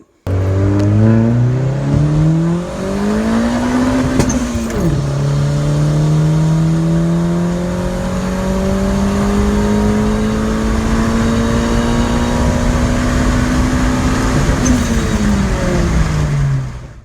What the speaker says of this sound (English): show you my first and second gear pull